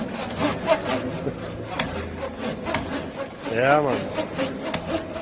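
A Makita power saw cuts through wood with a continuous rough rasping grind and a brief rising whine partway through, close and fairly loud, while someone says a couple of words over it.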